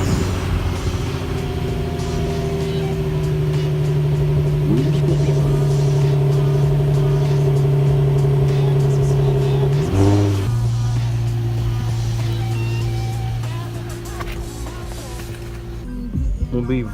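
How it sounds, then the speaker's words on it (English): A 2006 Infiniti G35 engine cold-starting and running steadily at high idle, a loud, droning hum with a brief rev or shift in pitch near the ten-second mark, then settling slightly lower; continuous and close. "G35 2006. Pretty nice, pretty nice. Got it last week. Do a quick cold start."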